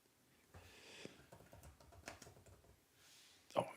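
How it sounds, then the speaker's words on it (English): Quiet, irregular key taps on a computer keyboard, a soft run of typing with a couple of sharper clicks near the end. "I'm typing on the wrong keyboard again"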